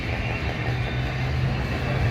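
Tram passing on a San Francisco street, a steady low mechanical rumble with a sustained hum and rolling wheel noise close by, no voices over it.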